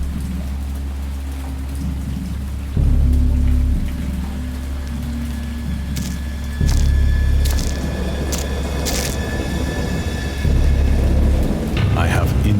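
Storm ambience from the video game Dagon: steady heavy rain with low rumbling thunder swelling in repeated loops, a few brief brighter cracks on top, with a voice faintly present.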